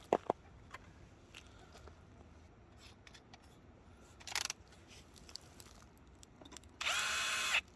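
A drill runs briefly near the end of a quiet workshop stretch, close and moderately loud, about a second of steady whirring after scattered small clicks and knocks, no talking.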